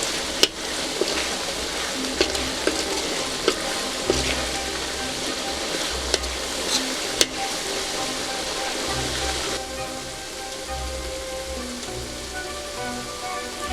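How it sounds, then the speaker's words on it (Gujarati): A spoon stirs egg curry gravy in a pan, making a steady simmering sizzle with occasional sharp clicks and taps of metal against the pan. "આ રીતે ચમચા વડે એને હલાવતા રહીશું, જેથી કરીને ગ્રેવી છે એ નીચે દાજી ન જાય"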